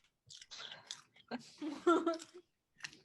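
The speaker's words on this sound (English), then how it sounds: "I hear you crunching" Crunching bites of a raw carrot, close and moderately loud, several irregular crisp chews spread over a few seconds with quiet gaps between them.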